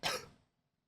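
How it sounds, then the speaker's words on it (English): One short, faint cough, a single breathy burst that fades within half a second. "you made me cough"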